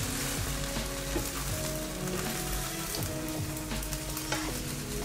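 A Hiroshima-style okonomiyaki cooks on top of an egg on a hot griddle, producing a continuous, rain-like sizzle up close with faint scraping and popping throughout.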